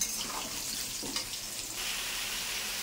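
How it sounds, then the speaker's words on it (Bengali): Potato pieces seasoned with salt and a little turmeric fry in a pan, giving a continuous close sizzle with occasional light stirring. "আলুটা ভেজে নিচ্ছি নুন একটু হলুদ দিয়ে সামান্য"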